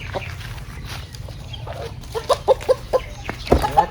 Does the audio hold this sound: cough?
no